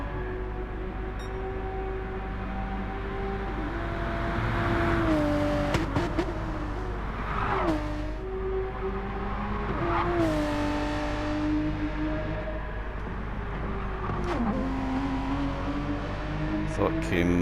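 A race car engine at Bathurst in Gran Turismo 7 during a one-hour endurance race hums steadily, its pitch climbing and dropping through repeated short-shifted gear changes. Commentary voices continue over it throughout.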